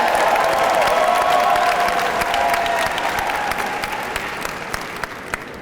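A school assembly crowd claps and cheers for the marching band and cheer squad, dense sustained applause with a few shouts that gradually fades over several seconds.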